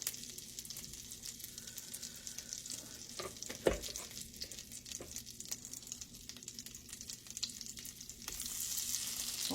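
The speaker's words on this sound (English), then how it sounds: "I'm going to fry them. I want them to be browned on both sides." Beef tips frying and browning in a pan, with a steady soft sizzle, scattered crackles and pops, one sharper clink near the middle, fairly quiet throughout and no talking.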